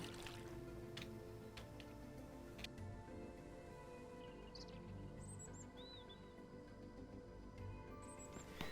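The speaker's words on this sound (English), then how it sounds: "This is what I want to do. Fill the bucket." Water steadily filling a bucket in the survival video game Mist Survival, a continuous liquid pour with faint dripping, joined by soft bird chirps in the background ambience.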